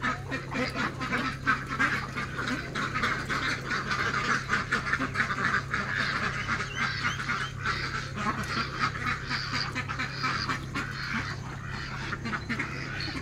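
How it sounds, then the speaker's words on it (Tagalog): A flock of Pekin duck breeders on a farm in Villasis, Pangasinan, keeps up a continuous chorus of overlapping quacks over a busy background, with no one talking. "Ito po ang aking Peking duck breeders."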